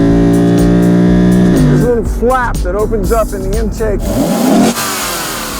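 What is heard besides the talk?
Lexus RC F V8 engine revving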